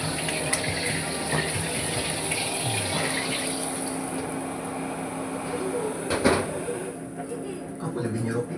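A cooking pot being washed under running water before eggs are cooked, with a steady rush of tap water and occasional clanks of the pot, close and continuous, with talk over it.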